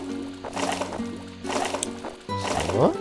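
Water poured from a watering can onto plants in the Garten-Simulator 2010 gardening game, a steady splashing, gurgling stream that swells in bursts, with a brief spoken word over it.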